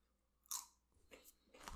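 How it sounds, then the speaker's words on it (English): A single crisp crunch as teeth bite into a fried, wavy Doritos chip, followed by a few quieter chewing crunches, close and isolated in a quiet room. "Hopefully you heard that little"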